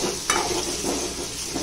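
Schezwan chutney, soy sauce and tomato ketchup stirred in a pan for veg Manchurian gravy, a steady close scraping and sizzling with one sharp clink near the start, no voices.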